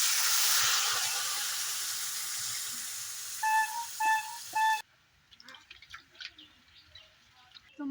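Water poured into a hot pan while cooking a crab dish gives a loud, bright hiss that slowly fades, with a few short beeps over it before it stops abruptly and soft clicks follow.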